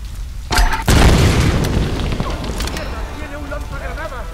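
Grenade launcher blasts in Tomb Raider 2013: a loud boom is quickly followed by a second heavier detonation, then rumbling debris and crackling tails off beneath game sounds and a voice.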